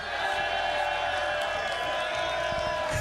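A crowd at a Street Fighter 6 tournament at a casino cheers and whoops in a continuous, dense roar, with voices mixed into the noise.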